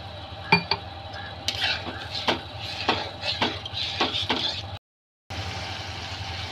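A metal spoon stirs spice masala with water in a pan for Bengali pangas fish curry, making a steady run of scraping clinks and taps against the pan, with a short gap of silence near the end.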